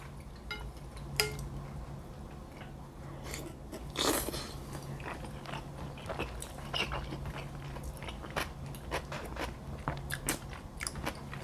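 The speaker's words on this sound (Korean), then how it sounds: "단말 삼계탕 먹으니까 너무 맛있네요" Close, quiet chewing and biting while eating samgyetang chicken soup in a mukbang, with soft crunches, wet mouth sounds and occasional clinks of cutlery against a dish, no talking.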